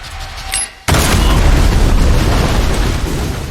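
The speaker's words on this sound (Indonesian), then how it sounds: "Javier pun langsung membawa Eve keluar dari rumah tersebut" A timed bomb explodes in an action film with a sudden, loud boom after a brief quiet moment, followed by a sustained roaring rumble that slowly fades while still filling the space.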